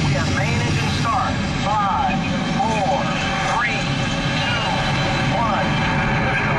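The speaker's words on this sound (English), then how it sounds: "We have main engine start." Simulated rocket main engine start on the Mission Space ride, a continuous heavy roar and rumble sustained at high volume, with voices talking over the top.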